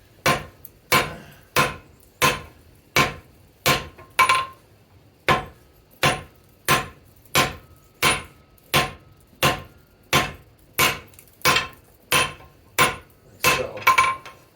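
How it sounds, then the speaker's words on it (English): Hot steel is hammered on an anvil while a tool for bonsai collecting is forged and thinned out, with about twenty loud, evenly spaced ringing blows in a steady rhythm and no talking. "I'm going to thin it out a little bit more and make my life easier cutting this."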